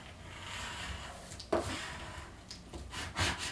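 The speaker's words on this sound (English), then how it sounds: "I flip it over onto my mat and I press it down and then go over it with a scraping tool a little more" Scraping tool rubbed firmly over holographic vinyl pressed onto a crafting mat for a tumbler, giving a few soft, close scratchy strokes, one sharper scrape near the middle and a louder rub toward the end.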